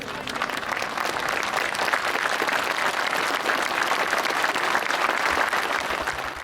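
Sustained applause from citizens lining a funeral procession, a dense unbroken wash of many hands clapping outdoors, steady and fairly loud throughout with a faint rumble underneath.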